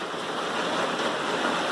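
Heavy rain pours steadily on the Appalachian Trail in Vermont, a dense, continuous hiss that fills the short stretch without letting up, close and fairly loud.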